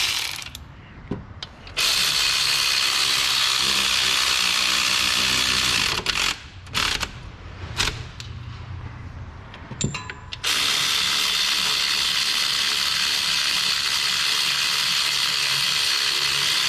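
Ratchet wrench tightening 15mm alternator bolts on a Dodge 4.7 V8 engine, producing steady close clicking over most of the span, broken by a few brief pauses and louder knocks.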